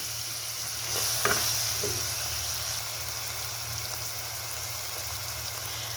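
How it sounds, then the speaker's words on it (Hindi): Chicken sizzles and frys steadily in a pan with onion, green chili and ginger garlic paste, a continuous close hiss with a few brief stirring clatters and no talking. "और आपने इनको अच्छी तरह भूनना है।"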